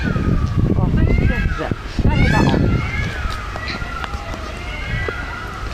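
A crowd of people shouts and yells loudly together at Łazienki Park in Warsaw, voices overlapping in a noisy, chaotic outdoor din with some high-pitched whoops.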